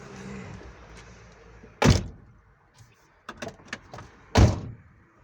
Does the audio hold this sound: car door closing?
yes